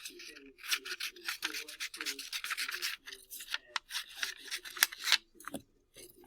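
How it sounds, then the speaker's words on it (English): Scissors snipping through paper to cut out a large rectangle, quick rhythmic crisp cuts with rustling of the sheet, close and fairly quiet with no other sound. "I'm going to cut out the large rectangle"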